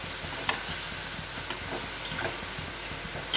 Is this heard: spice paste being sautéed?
yes